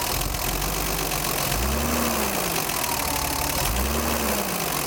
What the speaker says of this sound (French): Quand je donne un petit coup d'accélérateur